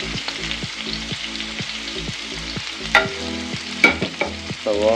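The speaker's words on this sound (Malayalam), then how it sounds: "ജീരകം ഇട്ടതിന് ശേഷം നമ്മൾ അരിഞ്ഞ് വെച്ചേക്കുന്ന സവാള" Sliced onions frying in hot coconut oil with cumin seeds for a potato chicken curry, a strong steady sizzle up close with rhythmic spatula scrapes and a few sharp clinks.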